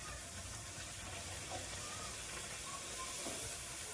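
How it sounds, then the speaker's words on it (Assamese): Pea-stuffed puris fry in hot oil with a steady, moderately quiet hiss and faint bubbling that stays constant for the few seconds heard, with no voices. "এয়া তেল গৰম কৰিলে এতিয়া বাজিব মটৰৰ পুৰি"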